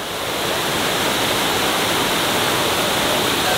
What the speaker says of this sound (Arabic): سبحان الله، حتى شلالات موجودة هنا،